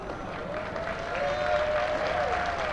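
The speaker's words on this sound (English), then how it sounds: "A round of applause from the audience." Audience applause at a driverless autocross event, a steady wash of distant crowd clapping under a faint whining tone, rising slightly in loudness midway and continuing without pause.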